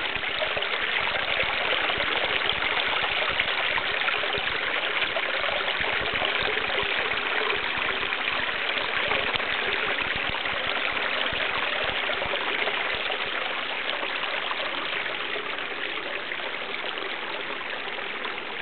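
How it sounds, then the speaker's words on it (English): Water flows and gurgles continuously in kidney-shaped pools, making a steady, close, moderately loud rushing wash with no voices. "quite a lot of water action along the edge."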